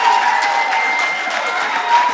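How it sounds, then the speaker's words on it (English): Studio audience giving contestants a round of applause, steady dense clapping from a crowd with faint cheering, continuous for a couple of seconds. "Can we give these 9-year-olds"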